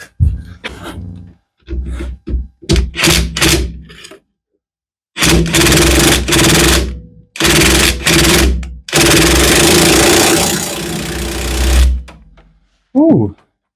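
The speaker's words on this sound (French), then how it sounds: "On va sortir la péteuse." Pneumatic impact wrench hammering at a seized bolt while a handbrake cable is changed on a Citroën C3, heard in several loud rattling bursts of one to three seconds separated by pauses, with brief speech between them.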